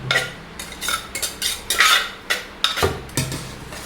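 Crickets and grated mango for a Thai cricket salad are stirred in a bowl, a spoon scraping and clinking in about a dozen quick, close strokes with short pauses between them.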